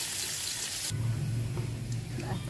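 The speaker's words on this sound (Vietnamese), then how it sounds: "Bỏ hành tím với tỏi băm vô." Shallots and minced garlic are frying in oil in a pan for a Vietnamese beef dish. A loud, hissing sizzle starts the clip, then it settles into a continuous crackle while someone talks over it.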